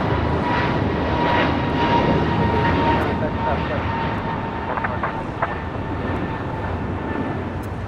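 A China Airlines Boeing 777 freighter arrives at LAX on runway 25 left: a loud, sustained jet engine roar with faint voices in the background.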